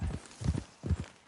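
Horse hooves clip-clop at a steady walking pace in Red Dead Redemption 2, three close paired groups of muffled thuds with no talking over them.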